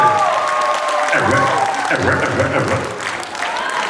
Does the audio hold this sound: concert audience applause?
yes